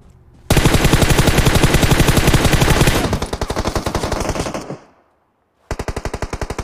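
Rapid bursts of automatic gunfire from a mobile battle-royale game, one long sustained volley, then a shorter run that cuts off, a brief silence, and a final quick burst, loud and close.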